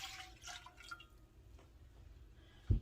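Strained herbal liquid trickles quietly into a cast iron pan in soft, close drips and splashes, ending with a brief clank.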